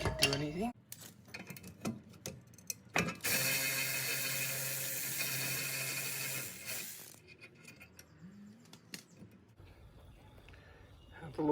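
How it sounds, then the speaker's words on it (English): A seized brake caliper and rotor are pried apart with metal tools, giving sharp clanks and scraping, then a few seconds of harsh grinding noise, with a voice speaking at times. "we're going to try and give it a quick pry"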